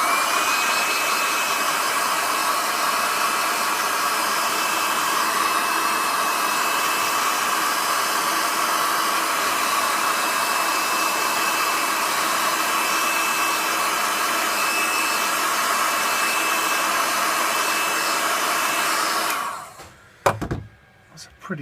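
Hot air gun blowing steadily over the front of a Sony Xperia M handset, a loud continuous whooshing hiss that runs unbroken before cutting off abruptly near the end, followed by a few handling clicks.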